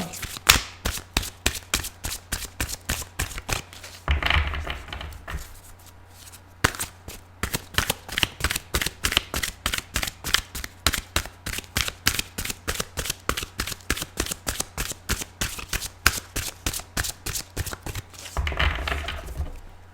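Tarot cards are shuffled repeatedly up close, a long run of rapid crisp riffling snaps with a few brief pauses and bridging flutters.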